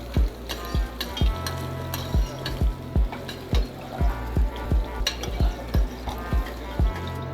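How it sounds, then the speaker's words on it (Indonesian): Meatballs pan-fry in a hot pan with a soft, steady sizzle. A utensil taps and clinks against the pan in a regular rhythm, about two strikes a second, close and clear, with no talking. "pastikan bahwa pannya harus panas terlebih dahulu, baru di pan fry"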